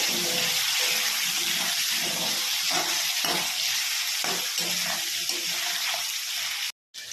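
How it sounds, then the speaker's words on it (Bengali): Potatoes frying in a pan give a dense, steady hiss and crackle close by, with occasional soft stirring knocks and a brief dropout near the end; no voices. "প্রথমে আগে আমি আলুগুলোকে ভেজে নেব।"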